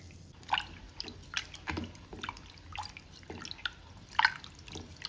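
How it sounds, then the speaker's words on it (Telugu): Rice is rinsed by hand in a bowl of water: soft, close splashes, squishes and drips come in irregular bursts against a quiet background. "ఇందులోకి వాటర్ వేసేసుకొని శుభ్రంగా 2-3 సార్లు కడగాలి"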